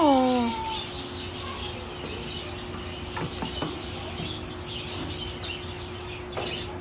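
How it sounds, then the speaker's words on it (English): Birds chirp at a farm with a goat nearby: a high descending call opens, followed by scattered short chirps and clicks over a steady, hissy outdoor background. "these are birds"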